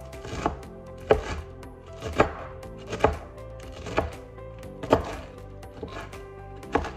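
A knife chops vegetables in a bowl with a matching blade, making sharp, evenly spaced thunks about once a second, close and clear with no talking.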